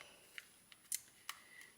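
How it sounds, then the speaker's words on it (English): A small utility knife cuts around the edge of an empty plastic yarn pod, giving a few faint, sharp ticks and scratchy clicks spaced irregularly in a quiet room. "you cut along the edge of it"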